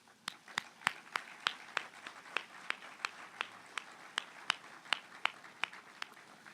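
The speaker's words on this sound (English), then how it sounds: "Please join me in a round of applause to recognize this group." Steady applause from a crowd at a college groundbreaking ceremony for a new academic building, with sharp individual claps standing out at a fairly even pace and nobody speaking over it.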